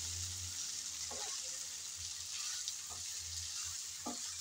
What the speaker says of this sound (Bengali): ব্রকলি দিয়ে আলু আর ব্রকলি একসাথে ভালোভাবে নেড়ে চেড়ে মিশিয়ে নেব